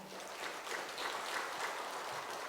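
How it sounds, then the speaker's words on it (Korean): Steady applause from a church congregation during a Sunday service, a dense patter of clapping that holds at an even level throughout without pause. "박수로 환영하겠습니다"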